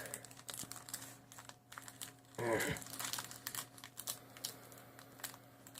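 A Magic: The Gathering Alliances booster pack is torn open, a brief loud crinkling rip of foil wrapper around the middle, with quieter rustling and handling of the pack before and after.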